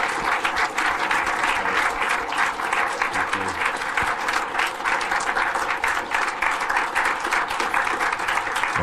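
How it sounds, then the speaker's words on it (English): A lecture audience rises in a standing ovation, filling the room with loud, dense, continuous clapping that holds steady from start to finish. "Let's give Craig a big round of applause."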